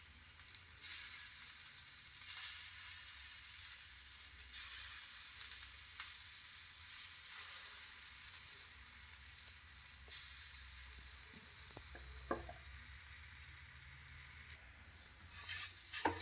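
Leftover roti spread with gram flour batter sizzles on a hot tava, a steady bright frying hiss that lasts throughout, with a few faint clicks and scrapes and no talk.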